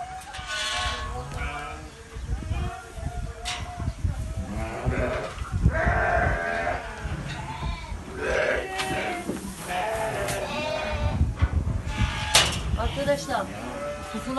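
Yearling sheep bleat loudly and continuously at feeding time in a village, with many overlapping calls from a nearby flock and people talking among them.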